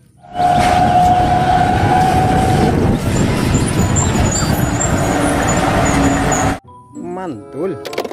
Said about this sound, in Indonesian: Mobil derek.